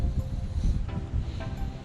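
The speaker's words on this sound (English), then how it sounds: "Good Lord, it's windy, man." Strong wind gusts buffet the microphone outdoors during a headlight restoration on a Lexus GX470, a steady low rumble with brief surges.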